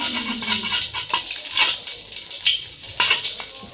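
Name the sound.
ghee sizzling in a pan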